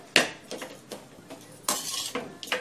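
A spoon scraping and clinking against a pan while mint rice (pudina rice) is stirred and mixed, several sharp irregular metallic knocks close by with quiet gaps between.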